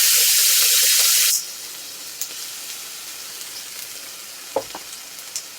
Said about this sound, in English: Now that I got the wok nice and hot, go ahead and add in my ginger